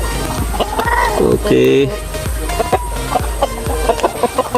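Free-range farm chickens clucking close by in short, repeated bursts, with a brief louder squawk early on and a person speaking a word among them.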